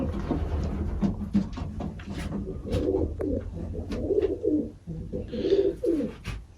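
Racing pigeons in a loft holding foster and young birds coo steadily in repeated low, throaty phrases, close and fairly loud, over a constant background rumble with a few brief higher chirps.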